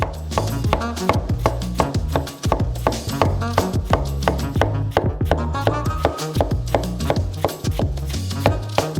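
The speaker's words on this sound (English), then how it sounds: "Finally, dice it into cubes." Watermelon flesh diced into cubes on a cutting board, a fast run of close, crisp knife chops in a steady rhythm, with background music under them.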